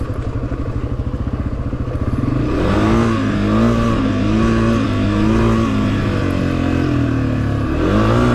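Honda CRF250F dirt bike engine during a hare scramble race, a loud close engine that idles with a rapid putter and then revs up into a sustained droning whine with wavering pitch.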